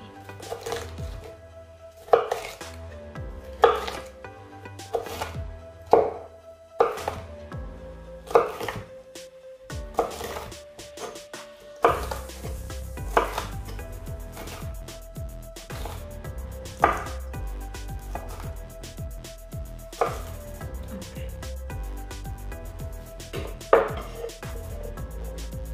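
A knife dices bell peppers on a cutting board in a steady run of crisp chops and taps, close and clear for the whole stretch, with no talking.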